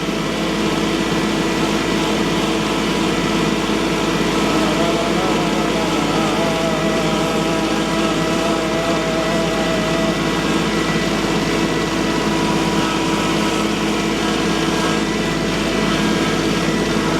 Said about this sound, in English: Got no heat in the engine yet.